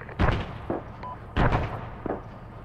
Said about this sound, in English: they're sending 40 mics, but they're overshooting some of them past the buildings and landing on the hillside about 75 meters away from us